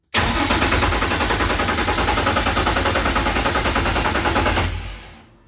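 A car engine cranks steadily and loudly for about four and a half seconds with a rapid, even rhythm after the fuel system is primed, but it never catches and the sound fades out.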